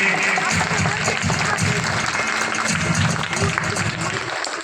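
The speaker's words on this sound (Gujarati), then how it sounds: "ખૂબ ખૂબ આપણે તાળીઓથી વધાવીએ આ આપણા ખોખોની ટીમ" An audience of schoolchildren and adults claps steadily for a kho-kho team at a primary school cultural programme, the applause continuous and fairly close, with some voices mixed in.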